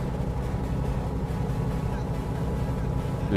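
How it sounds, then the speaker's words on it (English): Blackwing 635RG light aircraft engine idling at low throttle in Microsoft Flight Simulator, a steady, loud low drone that holds evenly throughout without pause. "It just sounds like the frickin' engine's gonna die."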